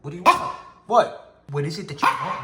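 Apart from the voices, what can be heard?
dog barking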